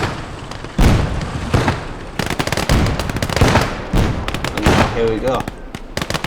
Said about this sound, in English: this is where the field and anti-tank starts firing